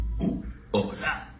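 A loud burp from a young man among friends, a short belch followed by a longer, louder second burst, close to the mic.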